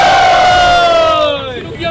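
A crowd at a street rap battle in Alabang, Muntinlupa roars and shouts loudly in one burst. The noise swells, then fades quickly toward the end.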